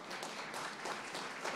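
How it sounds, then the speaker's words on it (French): Audience applause for a startup team at a pitch marathon, a steady wash of clapping that holds evenly for the whole short stretch, fairly quiet and distant, with no voices over it. "On accueille la start-up suivante, WeShip, on peut l'applaudir."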